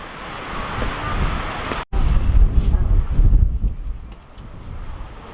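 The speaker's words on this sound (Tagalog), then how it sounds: "Lakas ng hangin." Strong wind roars across the Malico viewpoint on the Nueva Vizcaya to Pangasinan road, loud rumbling gusts buffet the microphone with a momentary dropout partway through.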